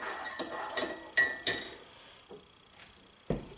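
A spoon stirring honey into a cup of white pine needle tea, giving several light, bright clinks against the cup in an uneven rhythm, close and fairly quiet, with gaps between the strikes.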